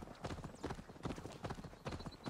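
Horse hooves clip-clopping in a steady rhythm as a rider travels along winding switchback paths in Assassin's Creed Valhalla, the Wrath of the Druids DLC, loud and close with no other sounds over them.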